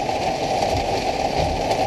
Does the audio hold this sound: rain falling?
yes